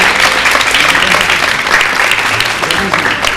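An audience applauds a performer at an informal acoustic folk gathering, a dense, loud burst of clapping that fills the whole moment, with some voices mixed in.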